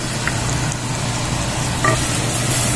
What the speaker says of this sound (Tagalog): Let's saute our onion.